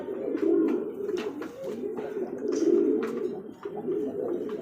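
Pigeons coo steadily at a pigeon sale, a dense, continuous murmur of low throaty calls from many birds close by, with occasional brief chirps and clicks over the top and no speech.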